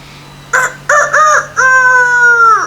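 A voice imitates a rooster crowing for a puppet storytelling demonstration, giving a few short loud clucking bursts and then one long sustained crow that trails off, close and clear.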